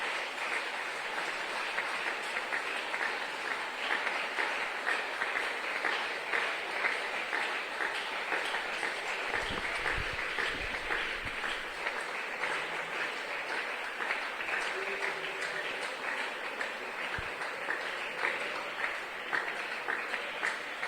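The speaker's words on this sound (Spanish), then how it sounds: "bríndale un aplauso a Dios" A church congregation applauds during a sermon, sustained even clapping from a full room lasting throughout, with a few low thumps and faint murmurs mixed in.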